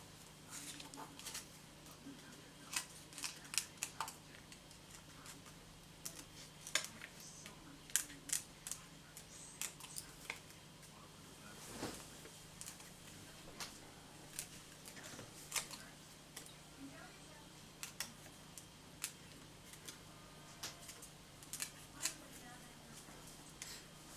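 Scissors snip and click in scattered bursts while a paper card piece for a wreath card is being cut out, with sharp clicks rising above a steady low hum.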